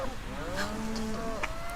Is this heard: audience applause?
no